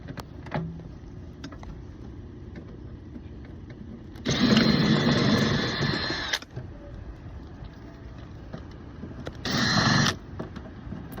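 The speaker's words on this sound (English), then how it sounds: "Now the dryer is working." A clothes dryer runs with its vent screen removed, giving two bursts of broadband whooshing airflow and motor hum, a longer one of about two seconds and a shorter one, over a quieter background.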